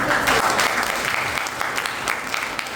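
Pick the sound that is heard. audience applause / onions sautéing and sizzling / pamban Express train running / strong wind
audience applause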